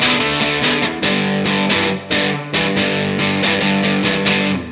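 Electric guitar crunch through a Lekato overdrive pedal emulating an overdriven Fender Twin Reverb tube amp, loud strummed chords with a rhythmic, choppy pattern and brief gaps, played alone without talk.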